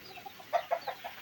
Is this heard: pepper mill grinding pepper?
no